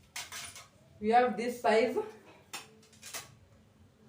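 Stainless steel graters from a cookware set clink and clatter as they are picked up and set down, a few sharp metallic knocks between stretches of speech.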